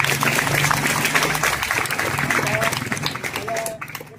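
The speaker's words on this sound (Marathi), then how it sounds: "टाळ्या वाजवायच्या" Children clap their hands together at a school gathering, a dense steady patter of applause under an adult voice and background chatter.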